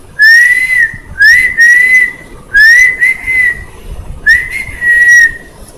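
A person whistles loud, clear high notes up close, in several short phrases with brief gaps between them.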